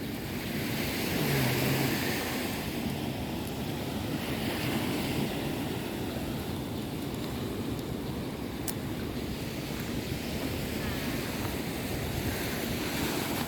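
Ocean surf rolls onto the beach at Ujung Genteng, Sukabumi, West Java, a steady loud roar of breaking waves with wind buffeting the microphone throughout.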